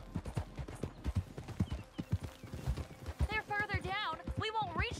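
Rhythmic hoof clip-clop of a galloping horse in Red Dead Redemption 2, close and steady, with a horse whinny and people talking over it.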